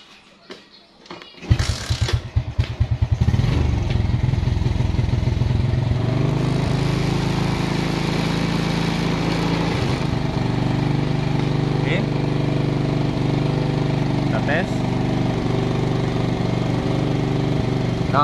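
A Suzuki Smash motorcycle with a rough, misfiring engine starts after a quiet moment, then runs at a steady, loud, even idle that never picks up, with some talk over it.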